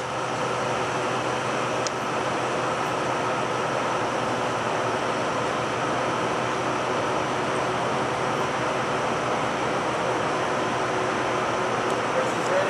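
A Monarch 25 x 48 toolroom lathe in excellent condition runs continuously while threading, giving a steady, loud mechanical hum and whir with no break.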